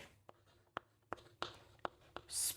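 Quiet taps and short strokes of writing on a board during a lecture, about half a dozen sharp marks spaced unevenly, followed by a brief louder rub at the end.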